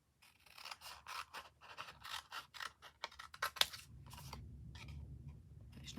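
Scissors snip through paper for handmade Christmas gift tags in a quick series of close, crisp cuts, then give way to soft rustling and handling with no talk.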